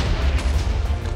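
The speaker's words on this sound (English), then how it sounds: "There's a lot of explosions going on." Continuous, dense booming explosions in the Minecraft video game, loud and rumbling with no gaps, filling the whole short stretch.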